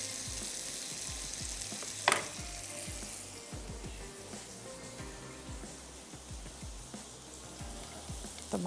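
Chicken grilling in a pan for Italian-style grilled chicken, giving a steady close sizzle and crackle throughout with scattered pops and one sharp louder burst early on, no talking.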